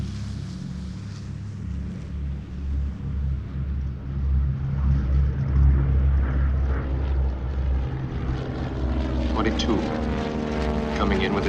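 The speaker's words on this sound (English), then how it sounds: "Now 6 more arrive." A four-engine B-17 bomber lands at a wartime airfield, its propeller engines droning near and loud and then swelling, while a narrator speaks over the noise.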